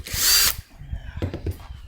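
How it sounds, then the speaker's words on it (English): A power drill bores a pilot hole for an L bracket in a camper van conversion, one short loud whine that cuts off, followed by faint handling clatter and knocks. "I'm going to do a little pilot hole first, just to make sure we get this nice and level."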